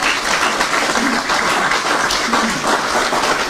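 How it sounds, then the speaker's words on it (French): Crowd applause during a speech, a continuous, dense wash of many hands clapping at steady loudness throughout, with no voice rising above it. "ça mérite beaucoup plus d'applaudissements"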